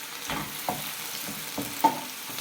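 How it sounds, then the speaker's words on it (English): Pork with soy sauce and dark soy sauce stir-fried with garlic and ginger in a pan, a soft sizzle broken by several short stirring knocks and scrapes, fairly quiet and with no talk. "Same with the dark soy sauce, 2 turns. 1, 2. And just give that a little mix."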